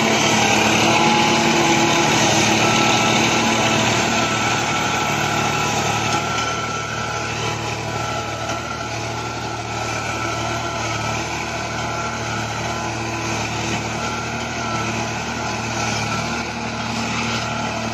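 New Holland 3032 tractor, a 35 hp model, runs steadily in third gear with a continuous loud engine drone and broadband mechanical noise, no voices, level throughout.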